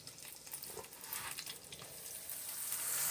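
Okra frying in a pan on a home stove, a steady broadband sizzle that swells slightly louder toward the end, with no talk over it.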